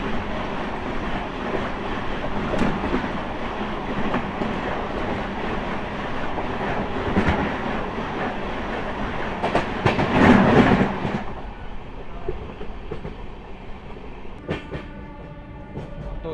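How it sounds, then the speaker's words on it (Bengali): An Indian express train, the Sealdah–Benaras Amrit Bharat Express, passes the Kanchenjunga Express at a crossing near Bardhaman: a steady, loud rumble of wheels and carriages with rhythmic clatter, swelling briefly before easing to quieter rail noise. "যেটা দেখাতে চলেছি সেটা হচ্ছে 13174 কাঞ্চনজঙ্ঘা এক্সপ্রেসের সাথে ক্রসিং"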